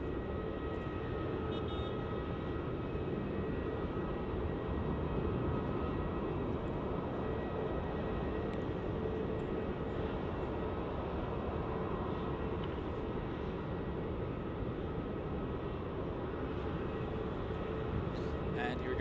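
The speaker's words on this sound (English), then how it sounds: "And here it goes. Qantas 29 off to Hong Kong." A Qantas airliner departing Melbourne Airport for Hong Kong roars down the runway in a loud, steady, broadband engine rumble that holds throughout, with faint voices over it.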